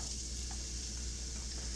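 Onions sizzle in a pan for beef stroganoff, a dense, even frying hiss that stays steady and close, with no voices.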